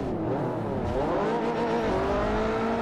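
Hatchback engine revving hard in Forza Motorsport 4, loud and close, with rising and falling pitch sweeps as the car accelerates through gears.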